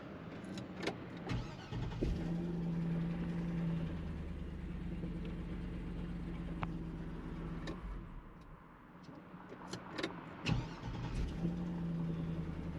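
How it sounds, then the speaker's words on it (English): Chevrolet Silverado pickup engine idling steadily after the key is switched off, a continuous low mechanical hum with a few brief clunks and knocks, close and alone. "you shut the key off and it stays running"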